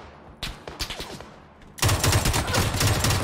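Gunfire in a first-person shooter game, a sparse run of separate shots followed by a dense, loud, sustained burst of rapid fire that continues to the end.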